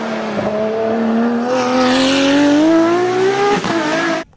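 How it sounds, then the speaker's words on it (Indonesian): Engine noise from a toy race car: a buzzing motor whine that climbs slowly in pitch for about four seconds, loud and close, then cuts off abruptly. "Ini adalah mobil balap."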